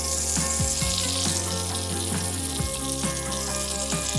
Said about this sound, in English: Melted some butter down in it. And I am going to place our rolls seam side down into the hot skillet.